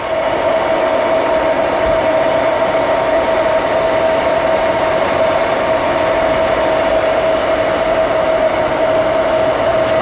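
A blacksmith's forge that has been cranked up while tongs are being made runs as a loud, steady, even roar with a constant whining tone over it, unbroken throughout.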